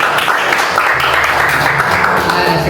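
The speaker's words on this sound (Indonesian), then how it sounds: "tepuk tangan dulu untuk Daniel" An audience claps for Daniel at a chapter president inauguration event, a dense, steady wash of applause filling the whole moment with a low hum beneath.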